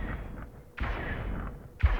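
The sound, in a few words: missile barrage fire from BattleGroupVR video game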